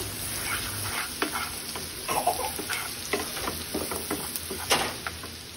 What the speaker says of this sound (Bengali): চিংড়ি মাছটা ভুনা করার জন্য এখানে আমি মশলাটা ভালোভাবে একটু কষিয়ে নিচ্ছি